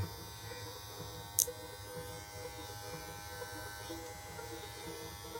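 A Kemei KM 8531 electric hair clipper runs with a steady, close buzzing hum, and a single sharp click occurs early on.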